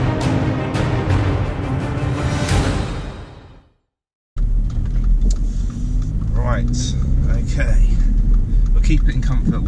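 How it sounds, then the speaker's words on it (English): Mercedes A45 AMG driving in comfort mode, its engine and exhaust a steady low rumble inside the cabin, briefly cutting out before resuming, with someone talking over it throughout. "otherwise the sound of the exhaust will drown out my voice"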